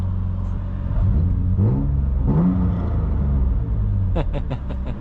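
BMW E36 M3 with a manual swap revving, its exhaust rising and falling in pitch in a couple of throttle blips, heard from inside the car with a steady low engine drone.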